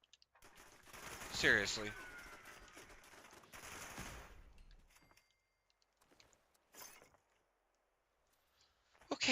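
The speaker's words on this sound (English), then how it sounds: "how is this turret shooting me?" Turret gunfire in a video game, a loud stretch of rapid shooting early on that fades out, followed by quieter scattered sounds; a person speaks briefly.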